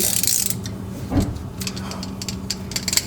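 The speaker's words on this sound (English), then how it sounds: "we're going to turn it counterclockwise with our ratchet" A ratchet turns the post-catalytic-converter oxygen sensor counterclockwise on a Mercedes SLK230, giving a run of close, sharp mechanical clicks that grow denser after a brief pause.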